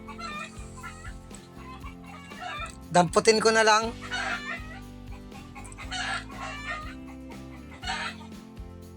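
Chickens and roosters cluck and squawk nearby in the Philippines, with a loud flurry of calls early on, while someone speaks and background music plays.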